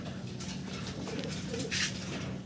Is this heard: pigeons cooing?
yes